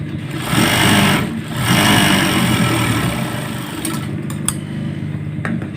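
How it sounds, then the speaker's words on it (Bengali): A sewing machine runs double seams on small baby shorts, whirring loudly and close in two long bursts with a short pause between, then a quieter stretch with a few clicks. "ডাবল সেলাই দিলাম"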